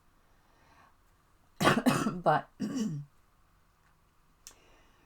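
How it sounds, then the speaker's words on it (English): A voice coughs two or three times in a short burst close to the microphone, followed by quiet, with a faint word afterward. "sorry about the cough"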